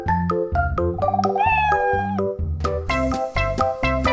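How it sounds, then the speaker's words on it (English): A cat meows in a run of short, repeated calls with a steady rhythm, close and fairly loud, mixed with other harmonic animal-like cries in a farm animal sound sequence; no talking. "It's a cat."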